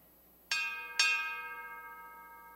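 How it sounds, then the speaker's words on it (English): Two tolls of a ship's bell at a naval memorial service, clear metallic strikes about half a second apart, the second one ringing on and slowly fading in a quiet room. "The toll of the ship's bell reminds us of the reverence that we owe to our"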